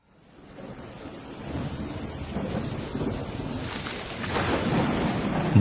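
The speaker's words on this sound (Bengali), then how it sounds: "আজ ঝড় বৃষ্টির দাপটটা যেন একটু বেশি" A thunderstorm with steady rain swelling in from near silence, broad rumbling thunder rolling through the middle and growing heavier toward the end, with no voices.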